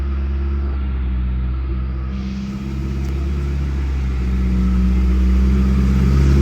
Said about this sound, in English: I'm gonna give it a few blips just so you can hear the sound